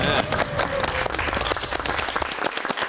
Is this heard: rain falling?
no